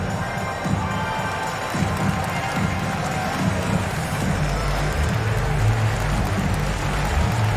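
Simulated arena crowd in an NBA 2K basketball game, Hawks at Pacers, a dense continuous roar of cheering and noise at steady loudness with a rumbling low end throughout.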